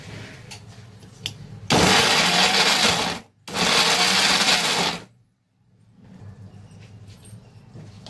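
A mixer grinder grinds onion and dried coconut in two loud, steady whirring bursts of roughly a second and a half each, separated by a short pause and followed by quiet.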